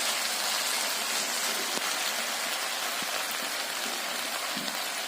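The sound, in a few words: fish sizzling as it fries in oil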